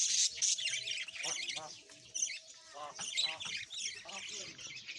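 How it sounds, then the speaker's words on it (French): Birds chirp and call around an outdoor café with clay tables in Beni Chikar near Nador, bright twittering overlapping continuously at moderate distance, mixed with faint background voices. "en écoutant les chants des oiseaux partout,"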